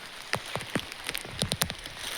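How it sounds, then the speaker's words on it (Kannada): Rain falling steadily, a close hissing wash punctuated by irregular sharp drops and taps on a surface, with no voices. "ನನಗೆ ಆಸೆಗೆ ತಕ್ಕ ಹಾಗೆ ಮಳೆ ಬಂತು ನೋಡಿ"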